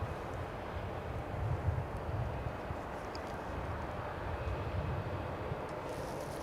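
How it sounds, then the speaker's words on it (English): American Airlines Flight 967 airliner arriving at DFW airport: a steady, fairly faint broadband engine rumble and rush from a distant jet on approach, with wind in the open air and no voices. "we've got American Flight 967 now arriving"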